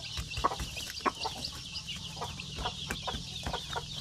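A mother hen with about thirteen chicks clucks close by in a quiet yard, soft repeated clucks and small peeps scattered irregularly over a faint background hum.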